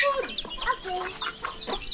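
Rhode Island chickens clucking nearby in a farmyard, several overlapping short clucks and calls in quick succession, fairly loud and close with no talk.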